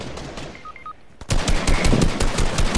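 Gunfire in the video game Fortnite, a loud, rapid burst of automatic shots that starts suddenly after a quiet moment and carries on steadily to the end.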